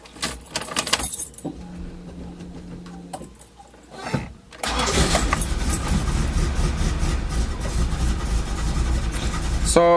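A car with a freshly welded-on muffler cranks and fires up, then settles into a loud, steady idle. Keys jangle and there is handling noise just before it starts.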